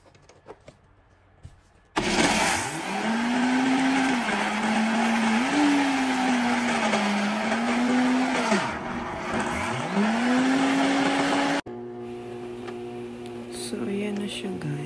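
Kitchen blender grinding peanuts into homemade peanut butter, a loud motor whine that drops and strains in pitch as the thick paste resists, starting abruptly after a quiet moment and cutting off near the end.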